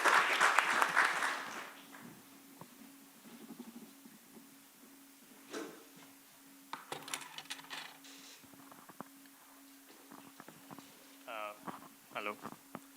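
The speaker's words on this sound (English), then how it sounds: "Please welcome them with the round of applause" An audience at a pitch-session final applauds for about two seconds, then the clapping fades into a quiet room with a steady hum, scattered clicks and brief bits of speech.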